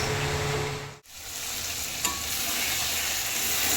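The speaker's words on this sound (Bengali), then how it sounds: "মশলা খুব সুন্দরভাবে কষানো হয়ে গেছে, মশলা দিয়ে তেল চলে দিয়েছে।" Spice masala with Kashmiri chilli powder fries and is stirred in oil, a dense, close sizzle that briefly cuts out once and then resumes with a small scrape, with no voices.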